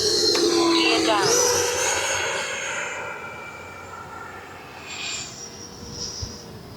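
A Freewing Avanti S 80mm RC jet on its maiden flight whines past on a low, slow landing approach with flaps and gear down, the turbine tone loud at first then fading into the distance while people talk nearby.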